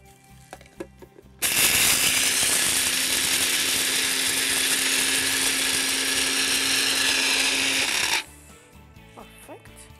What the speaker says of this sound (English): And I will grind them.